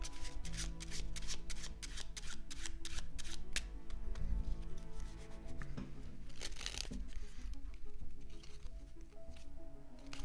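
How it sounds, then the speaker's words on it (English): Playing cards riffle and snap through a Hindu shuffle in a card magic practice session, rapid crisp flicks in quick bursts close to the microphone, with faint talk in the background. "using the Hindu shuffle for controlling the cards"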